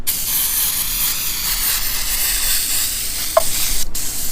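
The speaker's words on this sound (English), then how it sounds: "I just sprayed this with some throttle body cleaner, air intake cleaner" Aerosol throttle body cleaner sprays steadily onto a G35 350Z engine part for several seconds, hissing, ending with a faint click and brief rustle.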